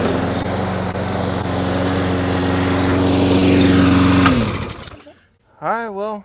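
The small engine of a self-propelled machine runs after a carburetor cleaning, a loud, steady, close drone that winds down and cuts out, followed by a brief spoken voice.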